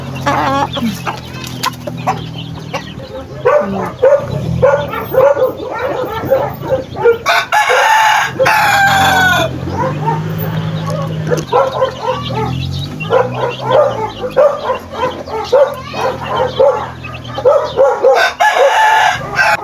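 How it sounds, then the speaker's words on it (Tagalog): A large rooster in a backyard flock of pet chickens crows loudly and repeatedly, with clucking fowl and a barking dog mixed in nearby. "Isang malaking sulog o rooster."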